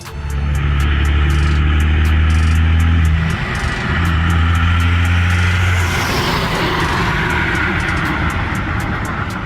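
A custom 1955 Peterbilt truck runs on a 24-valve Cummins engine taken from a 2002 Dodge. It gives a loud, close, steady drone with deep rumbling tones and shifts in pitch partway through.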